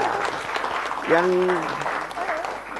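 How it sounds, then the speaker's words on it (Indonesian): Student audience at a university event applauds in a steady, moderately loud wash of clapping, with a voice talking briefly over it. "Keren, tepuk tangan lagi deh"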